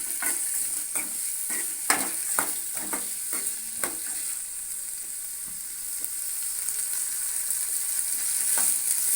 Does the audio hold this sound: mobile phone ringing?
no